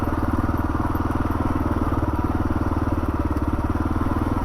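A Kawasaki KLR 650 motorcycle, a 2022 model, heading downhill, its engine giving a steady, loud, close throb with a rapid, even pulse and no pauses.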